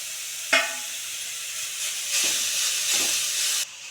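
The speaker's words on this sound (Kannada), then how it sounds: "ಈಗ ತುರಿದಿರೋಂತಹ ನೆಲ್ಲಿಕಾಯಿಯ ಬಾಳ್ಗೆಯಲ್ಲಿ ಹುರಿಯುವಾಗ ಎಲ್ಲ ಹಸಿ ಎಲ್ಲ ಹೋಗ್ಬೇಕ್ರಿ ನೆಲ್ಲಿಕಾಯ್ದು" Grated amla, Indian gooseberry, frying in a pan, a steady close hiss and sizzle with a few soft stirring scrapes throughout, no voices.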